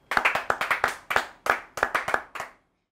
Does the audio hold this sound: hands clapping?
yes